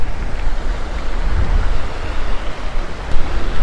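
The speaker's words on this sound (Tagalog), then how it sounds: "Hay, mahangin talaga o." Strong wind buffeting an outdoor microphone, a loud continuous roar with gusty surges and low rumbling, no voices heard.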